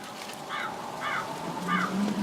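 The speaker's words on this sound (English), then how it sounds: "I don't know if you can hear the crows or not." Crows caw outdoors, three distinct harsh calls spaced about half a second apart at moderate distance, over a low ambient hum.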